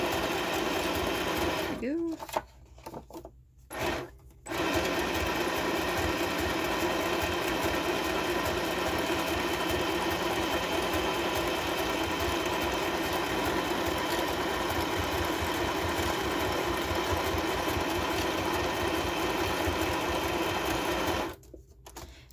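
A sewing machine runs steadily at close range, zigzag-stitching paper signatures for a junk journal, with a few brief pauses early and another stop near the end, while a person speaks briefly over it.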